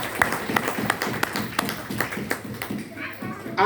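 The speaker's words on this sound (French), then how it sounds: "Put your hands together for the Lord." A church congregation claps along in a steady rhythmic beat of hand claps at a moderate distance, with a voice speaking over the clapping.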